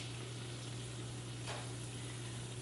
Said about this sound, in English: here comes two, and we're just going to go ahead and let that brown a little bit